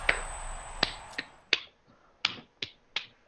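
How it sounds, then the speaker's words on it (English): Sharp hand claps ring out in the background, seven crisp isolated cracks spaced irregularly across a few seconds, with quiet stretches in between. "I'm not, I'm just clapping my hands"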